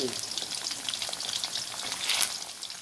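Floured chicken drumsticks fry in oil on low heat over a gas stove, giving a close, steady bubbling sizzle with a brief surge of crackle near the end.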